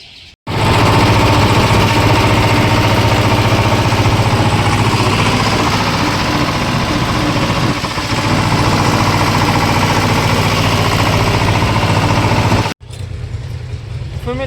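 Tractor engine running loud and steady at close range while hauling wheat to the market yard in Kodinar, a continuous rumbling drone that cuts off abruptly near the end.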